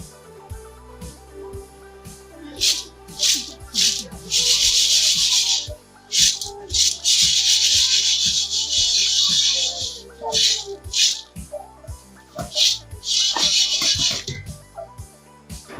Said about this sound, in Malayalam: ഇനി നമുക്ക് ഉപ്പിട്ട് കൊടുക്കാം. ഇതൊന്ന് നന്നായിട്ട് മിക്സ് ചെയ്യണം.